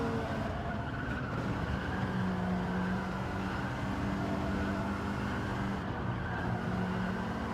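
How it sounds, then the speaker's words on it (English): Race car in a video game sliding through a corner, engine roaring steadily and loud throughout with the front wheels chattering and tires scrubbing under the drone, no voices. "You can hear the front wheels chattering as it slides through."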